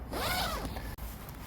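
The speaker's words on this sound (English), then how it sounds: "And it's that waterproof zip." A new waterproof tent zipper is pulled in one smooth, close, quiet stroke outdoors at a wild camp.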